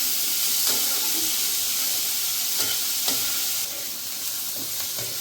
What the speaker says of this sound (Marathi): कलर येऊ द्यायचा लालसर, कांदा चांगला वाळून घ्यायचा।